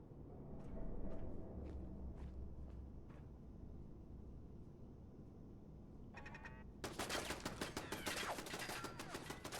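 Enemy gunfire in Fallout 4, a few faint distant shots early on, then a sudden loud, rapid burst of automatic fire closing out the scene.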